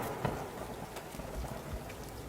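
Steady rain falls during the monsoon season at a besieged hill fort, a dense even hiss of drops with occasional heavier patters and low thumps, continuous and close, with no voices.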